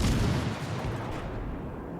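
Naval guns firing in a World of Warships Legends naval battle game, a dense rumbling boom that fills the short moment and slowly decays, with no voices over it.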